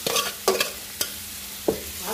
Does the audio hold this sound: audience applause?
no